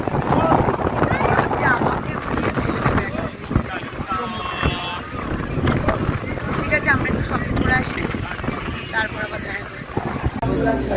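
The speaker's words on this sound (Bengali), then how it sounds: "এখানে এত হাওয়া যে গাড়ি যাচ্ছে না" Strong wind buffets and roars against the microphone while people talk loudly over the gusts.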